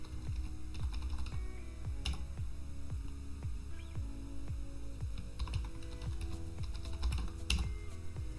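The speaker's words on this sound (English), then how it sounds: "type in your password" Typing a password on a computer keyboard, a steady close run of soft key clicks over a low hum, no talking.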